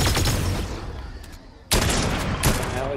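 Gunfire in Fortnite: dense, loud bursts of shots filling the start, a brief lull, then another sudden heavy volley of rapid fire continuing to the end.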